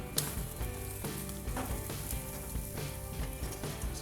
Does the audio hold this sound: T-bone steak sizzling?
yes